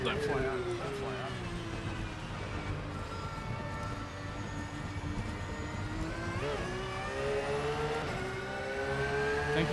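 A race car engine in a racing video game during a 24-hour Nürburgring stint, a loud continuous drone with rising and falling pitch through gear changes, steady and close, with voices talking over it.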